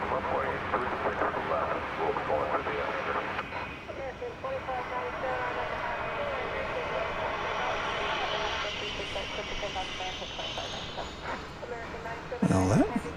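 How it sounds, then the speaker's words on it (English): American Airlines Boeing 737-800 arriving at DFW Airport at night, a distant jet engine rumble and whine rising and fading under continuous commentary voice, with a brief louder thump near the end. "The incoming flight here you see is American Flight 1711 from Des Moines, Iowa"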